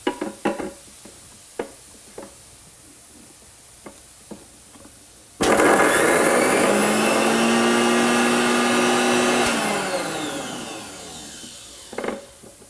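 Garlic and chillies whir in a grinder into a paste for soy kheema, a loud steady grinding burst of about four seconds that tapers off, set between quiet kitchen knocks and clatter.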